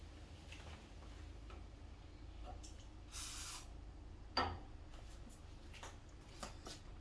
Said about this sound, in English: And tiny bit WD-40.